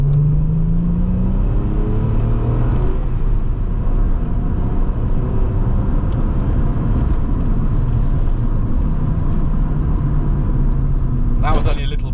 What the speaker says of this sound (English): I want you to appreciate what this car sounds like.